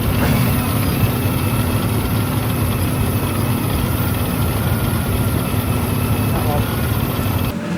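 Supercharged Mini Traveller engine with a Weber carburetor idling on a rolling road, a loud steady low rumble with a faint hissing air leak, constant throughout.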